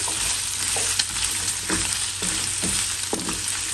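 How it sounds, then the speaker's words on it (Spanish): Spring onions fry in a pan with bacon and meat juices, a steady close sizzle broken by a few stirring scrapes, with no voices. "ahora le voy a agregar unas cebollitas"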